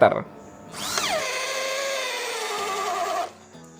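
A DCK KZJ16 impact drill with a 25 mm auger bit boring into 15 cm thick mahogany, the motor whining up sharply then grinding steadily for about two and a half seconds before stopping, close and loud.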